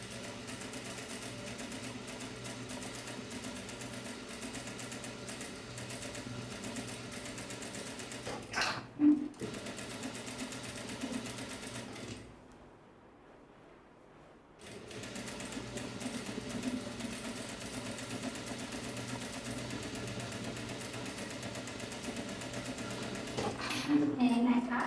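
A sewing machine runs a straight seam on an ao dai without backstitching, a steady mechanical whir broken by a brief pause partway through before stitching resumes, with a voice talking over it.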